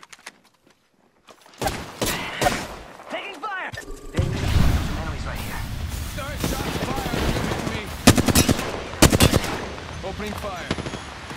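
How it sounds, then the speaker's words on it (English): Gunfire in the battle royale video game Apex Legends, rapid automatic bursts and heavy impacts layered with explosive booms and game effects, loud and dense with brief pauses, character voice lines heard amid the shooting. "Opening fire."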